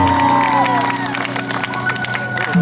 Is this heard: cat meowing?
no